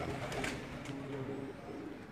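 Pigeons in a breeder's collection coo softly, a low, faint, steady murmur against a hushed background.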